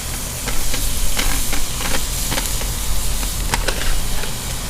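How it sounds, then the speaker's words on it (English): Onions sauteing in melted butter in a hot pan, a steady close sizzle and hiss with scattered stirring clicks, no talking. "We'll add our onions, basically everything, and I want it sauteed."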